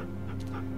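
A dog pants quickly and close up in the video game The Walking Dead, with short breathy puffs over a steady low game-sound background.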